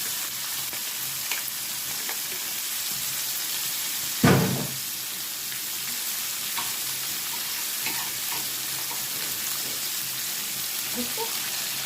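Beef liver for Alexandrian-style liver drops into a hot pan with a sudden loud sizzle burst, then settles into a steady frying hiss with faint scattered crackles.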